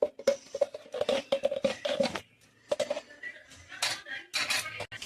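Vegetable fried rice with ghee stirred in a pan, with quick scraping and clattering strokes of a spoon against metal in irregular bursts, close by, one short stretch of near silence partway through.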